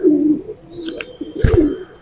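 A male Guldar pigeon, one of a pair kept among birds for sale, gives low, close, throaty coos in a repeated rolling pattern, with a few brief rustles between them.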